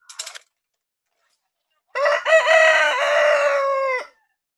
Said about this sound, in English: it's going to make a rooster sound